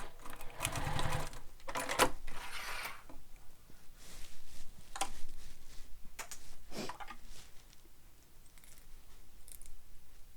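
Domestic sewing machine running a topstitch across a zippered sling bag panel, a close, steady mechanical whir with short pauses and bursts of stitching, and no voices.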